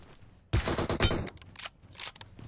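Rapid bursts of automatic gunfire crack out in a shooter video game match, loud and close, in two or three clustered volleys with brief gaps, no voices.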